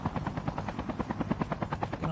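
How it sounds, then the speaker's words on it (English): A helicopter in Call of Duty Mobile thumps with steady, fast rotor beats, loud and close, with no voices over it. "Oh, chopper. Yeah, that's right. We have a chopper."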